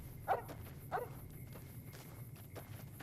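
A dog in the video game Fallout New Vegas gives two short barks early on, fairly faint over a low game background, with soft footstep-like taps afterward.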